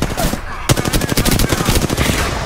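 Rapid automatic gunfire in a Shadow Royale battle royale video game, loud and close, with a continuous rattling burst of shots following a brief quieter lull.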